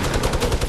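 A video game minigun fires in a short, loud, dense rattle of rapid shots with no pauses, close and unbroken.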